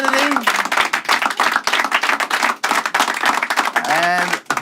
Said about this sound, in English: So, round of applause for Trent